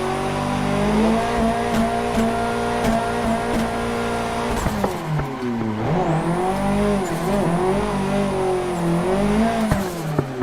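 Nissan S14 Silvia drifting in Assetto Corsa VR, its engine droning loud and steady with rising and falling revs and a sustained tyre squeal, no talking.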